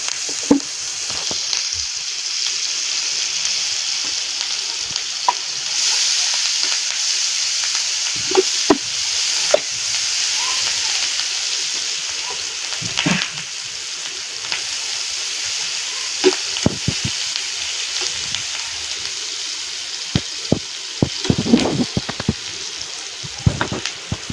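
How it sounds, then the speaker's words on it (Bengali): Cumin, bay leaf, chopped onion and green chili sizzle steadily in hot oil for a fish curry with tomato, a constant close frying hiss broken by occasional scrapes and clicks of stirring. "আমরা এখন এই তেলের ভিতরে জিরা, তেজপাতা, পেঁয়াজ কুচি,"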